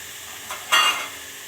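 Spices such as coriander powder, chili powder and garam masala being stirred in a hot pan for dhaba-style egg gravy, a brief soft scrape and sizzle rising near the end of the short clip, close and alone.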